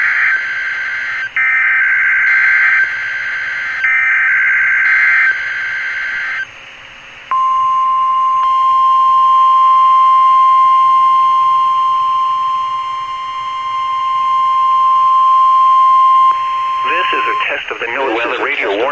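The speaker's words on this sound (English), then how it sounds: "Of the Noaa weather radio warning alarms and EAS signal." NOAA weather radio test sequence: rapid digital data bursts of EAS header tones, then a long steady 1050 Hz warning alarm tone holding for several seconds before closing data bursts, loud and clear with no voices.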